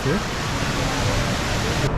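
Indoor waterfall at Jewel, Changi Airport in Singapore: a dense, steady roar of falling water fills the space, broadband and constant with no breaks, heard at moderate level.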